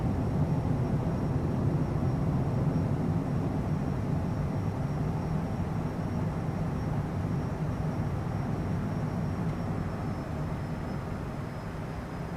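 A Cessna Citation CJ4 business jet takes off in a flight simulator game, its engines giving a steady, broad roar and rumble that holds for the whole stretch with no talking.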